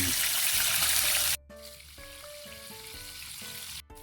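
Galunggong fish fry in hot oil with a loud, steady hiss that drops abruptly to quieter crackling sizzle and faint clinks before cutting off.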